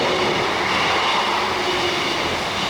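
A train rumbles past close by, a steady loud roar of wheels on rails with no voices.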